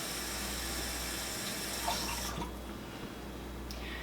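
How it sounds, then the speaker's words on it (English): Water runs and splashes as bean cans are rinsed out and the water is poured into a crockpot of ham and bean soup, a steady gushing that thins out partway through. "I'm going to go ahead and rinse out the cans just a little bit, add just a little bit of water, and add it to the pot"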